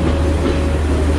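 A train rolls along the rails in Sri Lanka, a loud, close, continuous rumble with a low steady drone and faint clatter from the carriages.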